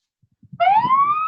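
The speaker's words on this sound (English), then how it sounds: "I'm gonna put your siren on too." A police car siren starts up close and loud after a few soft knocks, rising in a smooth upward wail that keeps climbing.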